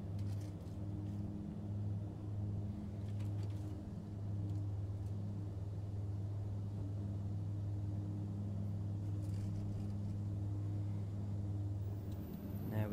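Twin aircraft engines idle steadily in Flight Simulator X, a constant low droning hum with a faint higher whine on top, unchanging and alone.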